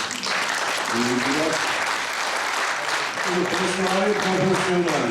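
An audience at an 80th jubilee evening applauds loudly and steadily throughout, with music or voices audible beneath the continuous clapping.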